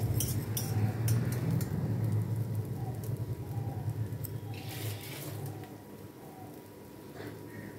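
Potato pieces fry in hot oil in a pan while being stirred, a steady close sizzle with scattered spatula scrapes and taps that slowly eases a little.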